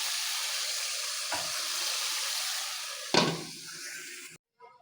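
A radish curry sizzles and fries in a pan with a steady hiss, broken by two scraping stirs before the sound cuts off abruptly.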